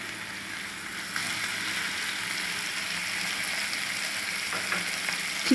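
Minced chicken fries in oil with onion, ginger and garlic, giving a continuous close sizzle with soft stirring scrapes and no voices.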